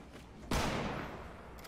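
A single sharp, loud gunshot blast with a decaying rumble, heard over a low steady background, from the video game Fortnite.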